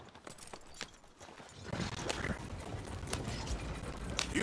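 Horse hoof clip-clops patter at a steady trot amid Red Dead Redemption 2 game ambience, with sharp clicks early on and a louder rumbling bed building after the first second and a half.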